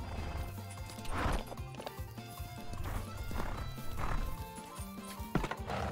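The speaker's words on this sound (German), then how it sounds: "Diese Schnauben gerade, das mag ich so gerne." A horse in the video game Ranch of Rivershine snorts and whinnies over steady hoofbeat clip-clops while being ridden, with the game's sounds moderately loud and continuous throughout.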